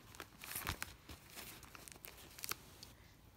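A paper envelope with items inside is handled and shifted, giving soft intermittent crinkles and rustles, fairly quiet and close, with a couple of sharper crackles.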